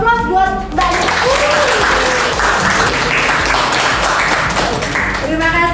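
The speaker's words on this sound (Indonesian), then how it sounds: "Aplaus buat Mbaknya" A classroom audience applauds a student who answered correctly, a loud, dense burst of clapping lasting several seconds, with a voice speaking just before and after.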